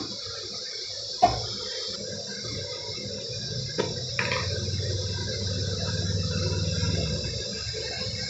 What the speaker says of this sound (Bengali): এবার আমি একটু জল দিয়ে দিচ্ছি পরিমাণ মতো যতটা জল লাগবে